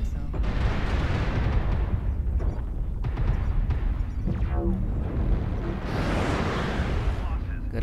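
Continuous roaring explosions and rumbling blasts from missiles in the Bushwacker X2 video game fill the whole stretch at high volume, with a voice talking over the din.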